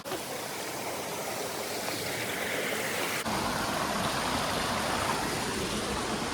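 A river in the Hetch Hetchy wilderness rushes and flows in a dense, steady wash of water noise that grows slightly louder partway through as the listener moves nearer.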